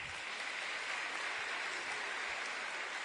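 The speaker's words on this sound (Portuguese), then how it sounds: "Pode aplaudir isso." A church congregation claps during a homily, soft, even applause that sounds distant and quiet, holding steady for a few seconds with no talk over it.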